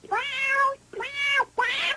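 A voice actor imitates a cat being run over by a car, giving three loud, close, strained meows, the last rising to a harsh, shrill cry, with short gaps between them and no other sound.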